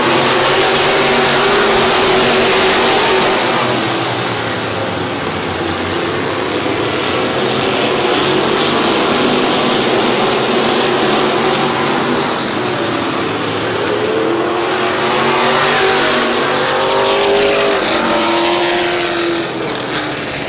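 Race cars accelerating on a restart at Midvale Speedway, a loud, continuous roar of many engines with rising and falling pitch as the field sweeps past.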